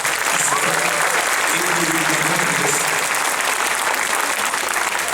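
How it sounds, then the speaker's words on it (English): Audience at a county fifth grade honor choir concert applauding the children, dense sustained clapping throughout at strong level, with a little crowd voice mixed in. "Give these boys and girls a round of applause."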